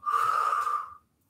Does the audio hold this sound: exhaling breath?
yes